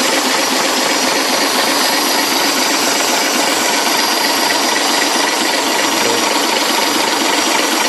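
The diesel engine of a Leyland Ribble BD-2 recovery truck runs with a loud, steady, unbroken rumble close to the listener, with no voices.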